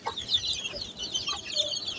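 Black Diamond hens with chicks about 27 days old, let out into a large cage in the sun, cluck softly and repeatedly close by, mixed with faint high peeps and no talking.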